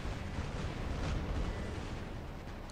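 Robot weapons fire in the War Robots game as a dense, continuous barrage of booming blasts and bursts, loud throughout with no talking.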